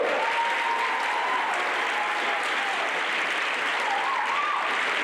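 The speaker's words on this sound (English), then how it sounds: "Give these guys a round of applause." A crowd applauding steadily, dense continuous clapping that stays loud throughout, with a few faint cheers mixed in.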